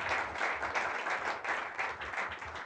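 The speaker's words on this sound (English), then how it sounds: "I think our panel deserves a big round of applause." An audience at an alumni town hall applauds a panel steadily for a few seconds, a dense wash of many hands clapping together.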